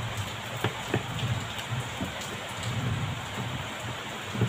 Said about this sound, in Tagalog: Maulan sa amin ngayon